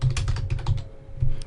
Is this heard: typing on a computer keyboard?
yes